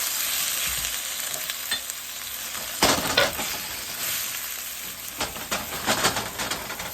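Chopped tomatoes hit a hot pan for Chinese tomatoes and eggs, giving a steady close sizzle and frying hiss with occasional stirring scrapes and clanks over it, and no talking.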